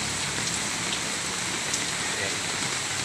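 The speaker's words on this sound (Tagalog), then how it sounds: "at malakas maulan na umaga" Heavy morning rain pours steadily in Marikina during flooding, a dense, even hiss of drops drumming on surfaces with no pauses.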